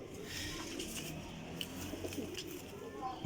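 Teddy Golden flying pigeons coo softly in a loft, a low steady murmur of calls with faint chirps and light rustling, no voices over it.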